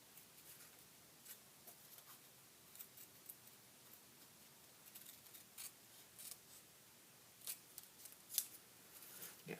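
Scissors snip through paper while a kite is cut out, a string of short, crisp cuts in irregular bursts, close and fairly quiet with no talking.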